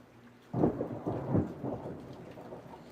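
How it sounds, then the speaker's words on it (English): A thunderstorm heard from indoors with rain outside the window: a soft steady patter of rain beneath a low rolling rumble of thunder that swells after a moment and fades back into the rain. "Oh, yeah, it's storming. I can hear the rain outside the window."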